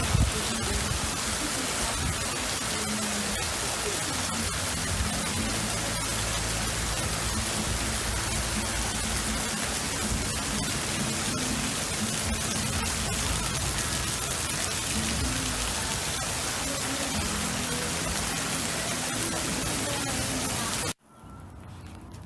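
Heavy rain pouring down after a thunderstorm, a loud, dense, continuous hiss and patter of drops on surfaces that lasts throughout, then cuts abruptly to quieter sound at the end.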